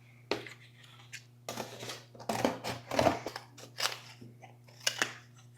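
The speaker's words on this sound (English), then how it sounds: "I'm gonna cut out another circle." Scissors cutting a cardboard circle in a craft studio: a close series of crunchy snips and rustles in irregular bursts, with no voices.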